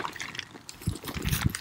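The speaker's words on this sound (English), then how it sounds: "I'm just going to start pouring some of it in." Liquid poured into a container, gurgling and splashing in short bursts that grow louder toward the end, fairly close and quiet, with no talk during it.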